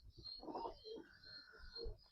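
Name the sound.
pigeons cooing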